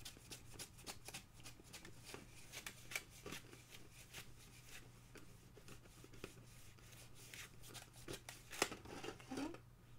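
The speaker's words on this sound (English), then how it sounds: "I have just a damp paper towel and I'm gonna wipe off my last drawing" A damp paper towel wipes a graphite drawing off paper in a quick series of soft scrubbing, rubbing strokes, close and fairly quiet over a low background hum.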